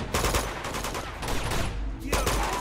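Gunshots in an Uncharted 2 firefight, a loud, dense run of rapid automatic bursts with brief pauses between volleys, sharp cracks repeating throughout.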